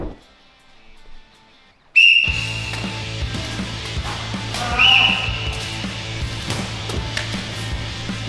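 A referee's whistle sounds to start a round of a trampoline sticky-wall jumping game, one sharp shrill blast followed by a second shorter tweet amid background noise and movement.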